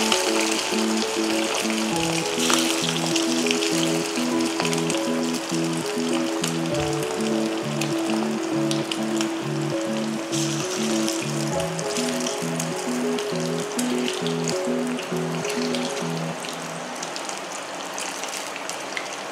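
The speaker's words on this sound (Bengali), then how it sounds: "এবার একে একে মাংসগুলো ভাজবো।" Chicken pieces fry in white oil in a wok, a loud, steady sizzle and crackle that runs unbroken throughout with no voices.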